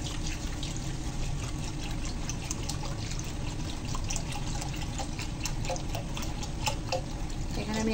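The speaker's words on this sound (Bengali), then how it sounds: "তো আমি এই যে দুধটা দিয়ে দিলাম।" Milk being poured into a cooking pot for nawabi semai, a vermicelli dessert, as a steady, close, continuous liquid rush and splash that lasts throughout.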